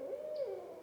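A single soft, drawn-out owl hoot with a slight downward bend in pitch, faint and alone against quiet background hiss.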